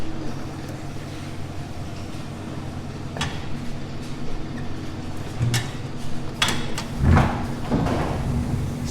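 Metal frames from a honey extractor slide out of and back into the spinning machine, giving a few sharp scraping and clattering bursts over a steady low machine hum.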